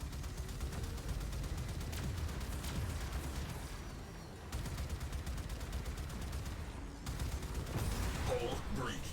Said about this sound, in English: Fire torpedoes.